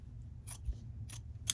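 Scissors trim a piece of quilt fabric from a hexagon log cabin quilt block, three quick crisp snips close by in a quiet room.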